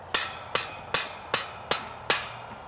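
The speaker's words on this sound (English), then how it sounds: "hammer it down" A hammer drives a metal stake for an outdoor dog playpen into the ground with six sharp, evenly spaced strikes, close and loud with nothing else heard.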